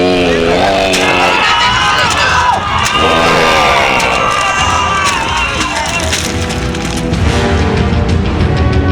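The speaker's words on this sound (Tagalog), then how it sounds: "Sa gawing yun nagmumula ang narinig natin sigawan." Frightened people screaming and shouting in a dense, continuous, loud chorus, full of overlapping voices with thuds and rumbling underneath, in a Filipino horror radio drama.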